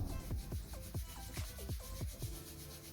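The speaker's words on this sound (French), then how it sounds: "Frotte tes mains de plus en plus vigoureusement." Palms rubbed together vigorously, a close series of quick brushing swishes in an even rhythm over a faint background.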